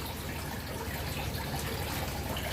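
Water pours steadily into a tub being filled for a sailfin dragon, giving a constant soft rushing splash with no pauses.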